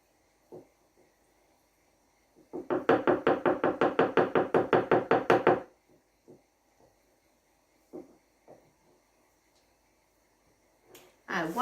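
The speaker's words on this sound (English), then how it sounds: "I want to mix it a little more vigorously, so I think my cup is too small." Pudding batter mixed vigorously in a small cup: a rapid train of about fifteen sharp, rhythmic knocking scrapes over three seconds, close and fairly loud, with scattered softer taps before and after.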